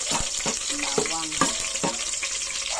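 Garlic sizzling steadily in a hot pan as it sautés, close up, with several scraping stirs of a utensil against the pan and no talking.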